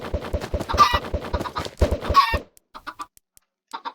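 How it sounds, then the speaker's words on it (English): Minecraft chickens cluck in quick, close bursts as thrown eggs hit them, a dense run of pecking clucks followed by a few sparser clucks after a short pause. "I'm damaging the chickens, throwing eggs at them, I am."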